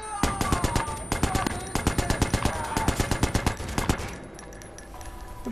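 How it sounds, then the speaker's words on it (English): Machine gun fire in Watch Dogs, with loud rapid bursts of rattling shots that come in quick runs and then trail off into quieter scattered shots. "We put a whole clip of a machine gun in his arse."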